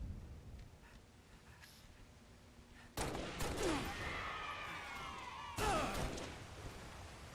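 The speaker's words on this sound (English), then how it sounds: "I'm hearing a lot of gunfire." Gunfire in the Halo MCC video game during a multiplayer match, with a few sharp bursts of shots and impacts breaking through a quiet background, punchy and fairly close.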